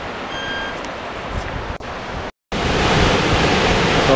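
The Grand River rushes past near a dam in Elora, a steady broadband roar of flowing water heard close and loud throughout, with a brief gap partway through and no voices.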